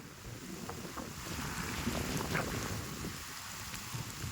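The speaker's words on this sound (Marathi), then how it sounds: "वारं सुद्धा जोरात आता सुरू झालेला आहे त्या भागात" Strong wind buffets the microphone in a steady roar with a rain-like wash underneath from a heavy first pre-monsoon downpour, rising slightly midway and staying loud throughout.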